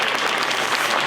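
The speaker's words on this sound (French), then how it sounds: "Vous pouvez l'applaudir bien fort pour l'encourager" Loud, continuous applause from a big crowd at a mentalism show in a Strasbourg arena, a brief dense wash of clapping.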